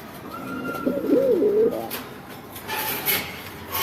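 Egyptian blue pigeons coo softly nearby in a couple of low, rolling calls, with faint background noise and no talking.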